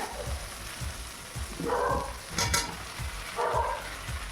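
Potatoes and kohlrabi sizzling in a pan with fried prawns while a utensil scrapes and stirs in repeated strokes, with a few brief louder bursts of frying.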